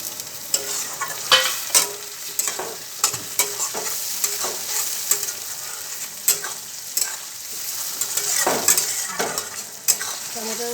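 Tomatoes frying in hot oil for Bengali ghugni, with a steady crackling sizzle throughout and repeated spatula scrapes and stirring clicks against the pan, close and fairly loud, no voices.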